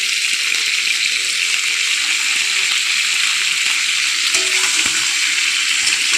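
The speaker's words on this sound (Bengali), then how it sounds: "আমি ফুলকপিটা দিয়ে দিয়েছি তেলের মধ্যে" Cauliflower pieces frying in hot oil with a little salt and Kashmiri chili powder, giving a steady, loud, continuous sizzle with faint scraping and small clinks throughout.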